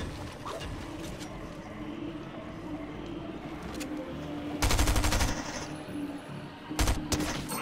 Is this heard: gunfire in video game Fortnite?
yes